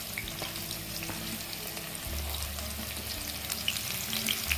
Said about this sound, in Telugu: ఇప్పుడు దీన్ని మనం గోల్డెన్ బ్రౌన్ వచ్చేంత వరకు కొద్దిగా ఫ్రై చేసుకోండి.